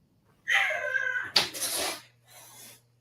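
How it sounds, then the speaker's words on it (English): Cats fighting, with a loud harmonic yowl rising into hissing and spitting bursts, then a quieter scuffling tail, close and without talk. "That's my cats. They're fighting each other?"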